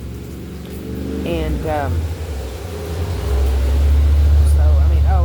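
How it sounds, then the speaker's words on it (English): Road traffic on a busy street, a steady low vehicle rumble that swells louder toward the end as a car passes close, with someone talking over it. "sorry about the traffic when I'm out here"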